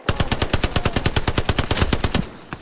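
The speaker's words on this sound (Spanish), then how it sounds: "Me metrallan." Rapid machine gun fire in the video game Hell Let Loose, a loud, close, sustained burst of evenly spaced shots, roughly a dozen per second, stopping abruptly near the end.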